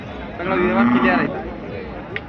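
One deep, drawn-out moo from a bullock close by at a large cattle market in Vadod, lasting about a second, followed by quieter background murmur.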